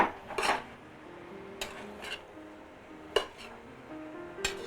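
Carrots, calabash and pumpkin being stirred in a pot with a utensil, a few scraping clinks and knocks against the pot spaced irregularly over a quiet kitchen background.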